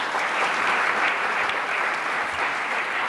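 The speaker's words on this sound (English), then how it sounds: "may I ask that you hold your applause until later" Applause at a 1984 Brown University commencement ceremony, a sustained wash of crowd clapping lasting a few seconds, steady and moderately loud without voices.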